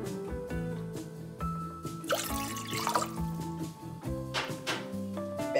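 Water pours and trickles into a container for Turkish okra syrup, a steady liquid splash with a few brief bursts, heard under background music with no talk.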